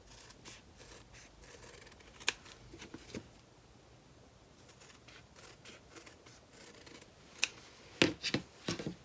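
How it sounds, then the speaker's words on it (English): Scissors trim thick cork material for a gathered shoulder bag, giving quiet scattered snips and rustling scrapes with a few sharper cuts, close and faint with no talking. "I think I should trim just a tiny bit more"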